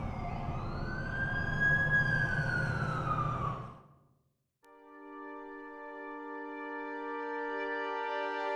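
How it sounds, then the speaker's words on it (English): An ambulance siren in The Amazing Spider-Man 2 video game wails loudly in a rising and falling sweep, then cuts out after about four seconds. A steady tonal electronic drone takes over and holds to the end. "That's the ambulance I called."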